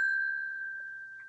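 A single bright bell ding in a live studio setup, one clean sustained tone ringing out and slowly fading, alone without talk.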